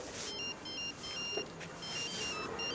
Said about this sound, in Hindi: आ गया रोमियो की लैला का फोन।